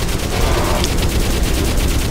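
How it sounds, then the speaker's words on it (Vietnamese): Heavy enemy gunfire in the video game Crysis Remastered, a loud continuous barrage of rapid automatic shots filling the whole stretch without a pause. "giờ nó bắn kiểu này chắc chết quá"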